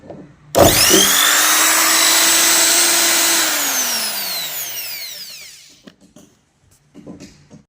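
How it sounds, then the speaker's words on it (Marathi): A power drill backs out screws from the packing around a lamination machine, a loud whining motor that holds steady for a few seconds, then winds down and slows to a stop, followed by faint handling clatter. "आम्ही ड्रिल मशीनच्या साहाय्यानं हे आम्ही काढत असतो"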